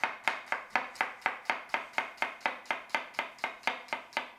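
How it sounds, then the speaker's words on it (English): A knife cuts through food on a cutting board in a fast, even rhythm, about fifteen crisp close thuds in quick succession, each chop sharp and distinct with no talk. "I'm just gonna run my knife through it, nice slivers."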